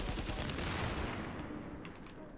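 A grenade blast and gunfire erupt in Tom Clancy's The Division video game, a loud burst of rattling shots that decays over a couple of seconds.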